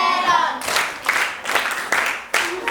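Classroom clapping for a student arrives as a short burst of quick, bright hand claps in a few uneven surges, fairly close and loud, following a teacher's voice at the start.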